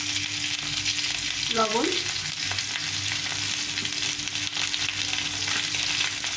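A ground paste of ginger, cumin and chili fries in a pan with a continuous, even hiss at moderate volume, broken once by a short rising squeak, while a single word is spoken briefly.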